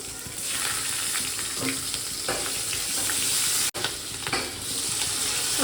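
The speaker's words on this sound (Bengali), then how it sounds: "ওই তেলের মধ্যেই আমি একটু কালো জিরে আর কাঁচা লঙ্কা ফোড়ন দেবো আগে" Nigella seeds and green chilies sizzle in hot oil with a loud, continuous close-up crackle, a brief stir or two breaking through, and no voices.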